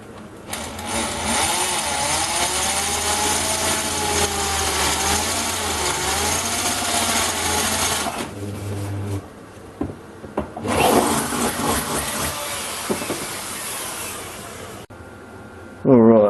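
A power tool grinds into the metal heat sink of a car battery charger to open up a hole, with loud sustained bursts: a long run, a pause with scattered handling noises, a second run, then a brief final burst.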